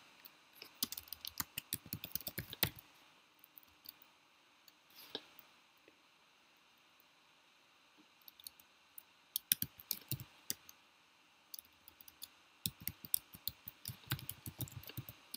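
Bursts of rapid clicking from typing on a computer keyboard, quiet and close, in several spurts separated by pauses, with no talking.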